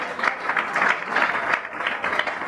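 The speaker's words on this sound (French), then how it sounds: "Est-ce qu'on peut applaudir pour mon petit?" An audience in a room claps for a young student, a dense, steady patter of many hands at moderate distance that carries evenly for a couple of seconds.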